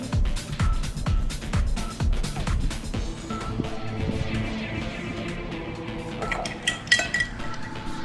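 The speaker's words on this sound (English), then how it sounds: "you can mix it with a fork or with a big mixer, but I prefer with a fork" Cookie bar batter for monster cookie bars mixed by hand with a fork in a bowl, rapid rhythmic clinking and scraping of metal against the bowl, close and steady, easing into slower stirring with occasional knocks.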